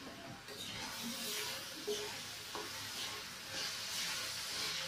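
Chana dal for puran poli stirred gently in a pan, a quiet low sizzle with soft scraping strokes, faint and steady without talking.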